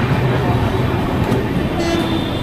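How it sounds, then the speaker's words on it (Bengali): The Doon Express, with new LHB coaches, pulls out of Serampore station on the Howrah route, giving a continuous loud rumble and rolling rattle heard from on board. "শ্রীরামপুর স্টেশন ট্রেন এখন ছেড়ে দিল"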